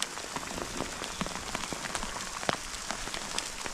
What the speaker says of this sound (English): And here's the hail.